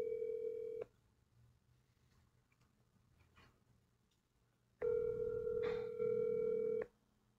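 A telephone call ringing out, with two long steady ring tones separated by about four seconds of quiet line hiss, heard close and clear with no voices.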